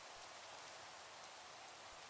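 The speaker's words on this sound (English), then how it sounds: "Oh look, it's raining." Rain falls steadily in Minecraft, a soft continuous hiss of drops with a few faint louder patters, heard alone without talk.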